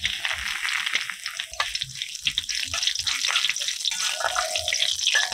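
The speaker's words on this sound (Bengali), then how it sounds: "তেলের মধ্যে দিয়ে দিচ্ছি 1 চামচ কালো সর্ষে, 1টা শুকনো লঙ্কা, কয়েকটা কারি পাতা" Black mustard seeds, a dried red chilli and curry leaves splutter in hot white oil in a kadai, a loud, continuous crackling sizzle with sharp pops throughout.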